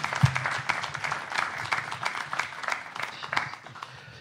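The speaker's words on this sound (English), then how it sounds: "Big round of applause for Matt" A live podcast show audience gives a round of applause for a guest, with dense, steady clapping that fades slightly toward the end.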